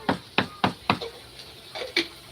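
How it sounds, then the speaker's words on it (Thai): Beef is chopped on a board for laab in a backyard, the knife landing in a run of sharp wooden knocks, about eight blows in uneven rhythm, close and clear. "ได้ยินเสียงเคาะปอกๆนะครับ สงสัยวันนี้มี ลาบเนื้อนะครับ"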